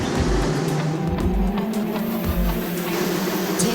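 Race cars of the RMC Euro Trophy roll off the start at the Wackersdorf circuit in Germany, a steady close engine drone with low throbbing pulses and a faint whine that hold at even loudness throughout.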